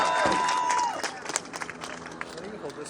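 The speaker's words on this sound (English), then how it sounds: "y'all should give yourself a round of applause" Crowd at a Seattle MLK Day sit-in applauds in a loose burst of scattered clapping and cheering, coming in after a shouting voice and thinning out over a couple of seconds amid crowd noise.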